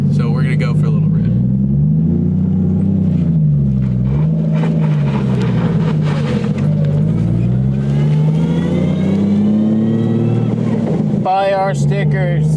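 A 1JZ-swapped Nissan 240SX drives along with its engine droning loudly from inside the car, pitch rising and falling through revs and gear changes, with voices talking over it.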